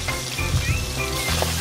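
Chopped onion sizzles and fries in hot oil in a chicken pot, a steady close crackling hiss with a few stirring clatters, no talking.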